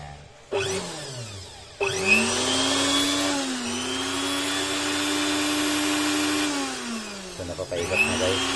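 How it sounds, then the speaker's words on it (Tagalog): A household blender powered by a 350-watt home DIY solar setup switches on with a thump, then whirs steadily with a rising motor whine, stops, and restarts near the end. "try natin siya ngayon sa blender. So mapapaikot na."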